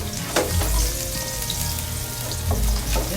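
Garlic sizzles and fries steadily in a pan of hot oil, a close continuous crackle with a few louder bursts of spattering.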